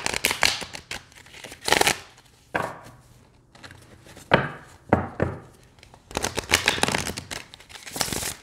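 Tarot cards being shuffled in several quick bursts of riffling and flapping, separated by short pauses, close and crisp.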